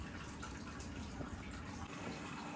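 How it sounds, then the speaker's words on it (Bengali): Chhana (cottage cheese) being rinsed and drained in a kitchen sink, a steady rush of running water with faint splashing throughout, no voices. "এবার আমি ছানাটিকে ধুয়ে খুব ভালোভাবে জল ঝরিয়ে নেব।"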